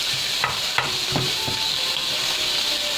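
Onion sautéing in oil in a pan, a steady close sizzle with a few sharp scrapes and taps of a stirring utensil, no talking.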